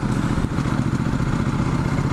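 A Ducati Multistrada 1260S engine runs at low revs, a loud, steady, rough throbbing drone with vibrating clatter and no one talking.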